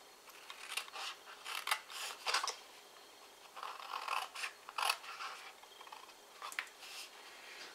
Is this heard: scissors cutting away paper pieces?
yes